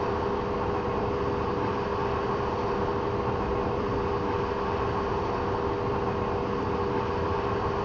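A long train runs along the Strasbourg to Karlsruhe line in Train Simulator, a steady, droning engine and rail rumble with a constant hum that stays level throughout.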